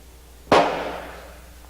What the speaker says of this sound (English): The friction primer acted like a giant kitchen match and set off the propelling charge.